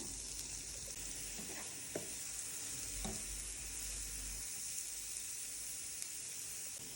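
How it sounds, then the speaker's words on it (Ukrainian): Steady, close sizzling of onion frying in butter in a pan, with a few soft scrapes and clicks of stirring throughout. "до сковорідки кладу шматочок вершкового масла і викладаю смажитись цибулю"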